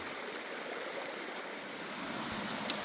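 Swollen stream after heavy hurricane rain on a Shenandoah hiking trail, rushing in a steady, full broadband roar close by with no talk.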